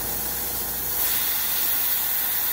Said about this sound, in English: I have a spray mister here I can turn on.